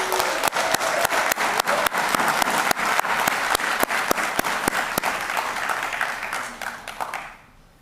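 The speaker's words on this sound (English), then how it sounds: "Please join me in giving them a round of applause." A convocation audience at Santa Ana College applauds the campus maintenance team, a dense, steady wash of many hands clapping close and loud for about seven seconds before it thins and stops.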